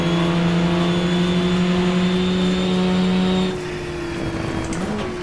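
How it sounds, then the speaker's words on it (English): Porsche race car engine in the GTR2 racing game, 1994 Suzuka 4 Hour race: a steady, loud, droning engine note that drops off sharply partway through as the car slows down the straight, then settles to a lower hum. "Porsche slows down the straight."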